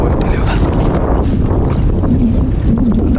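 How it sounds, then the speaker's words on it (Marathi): Strong wind buffeting an old engine-fitted fishing boat out at sea during gill net fishing for mullet, a loud, constant rumbling gust against the microphone with water motion beneath, and no speech. "वारा पण वाढला आहे"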